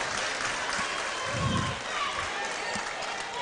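The St. Vincent and the Grenadines bench at a Bajan Gems vs SVG netball match breaks into a brief burst of clapping and cheers, heard under an ongoing commentator's voice in an indoor court.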